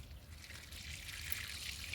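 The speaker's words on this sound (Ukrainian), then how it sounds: "Зараз перевіряємо, як вода у нас тепер виходить." Water pours through a washed diesel particulate filter from a Nissan X-Trail, a faint, steady trickling and splashing flow running continuously without speech.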